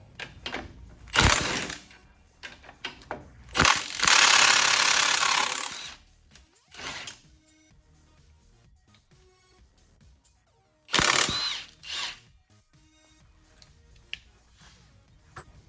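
Hub assembly bolts on a 2015-2017 Ford F-150 4x4 are loosened with an 18 mm socket on a swivel, giving several loud, harsh bursts of ratchet or impact noise between quieter workshop handling sounds.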